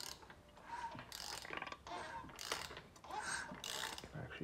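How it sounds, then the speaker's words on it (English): Diesel engine on an LBZ Duramax being cranked over by hand while the oil pump is primed, quiet mechanical clicking and ratcheting in uneven pulses, close up with a little background hiss. "I'm gonna go ahead and just crank it over by hand."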